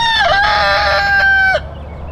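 A rooster crows once, loud and close, in a long drawn-out call lasting about a second and a half beside a chicken wagon, then falls off to quiet farmyard background.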